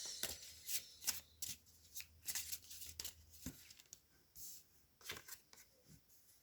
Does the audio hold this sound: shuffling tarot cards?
yes